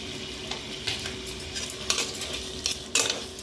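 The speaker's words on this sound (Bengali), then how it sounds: "এটাকে নাড়াচাড়া করে নেব।" Chinese chicken with cauliflower and a spoonful of tomato ketchup stirred in a sizzling pan, a steady frying hiss broken by repeated spoon scrapes and clanks against the metal, close up with no talk.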